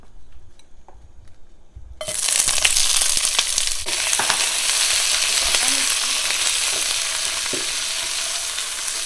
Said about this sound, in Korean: 올리브오일을 살짝 새우를 이제 볶을 거예요